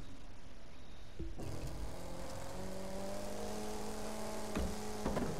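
Mercedes C63 AMG in The Crew 2 revs up after a brief quiet start, then holds a steady engine drone with rising harmonic tones, loud and close with no talk.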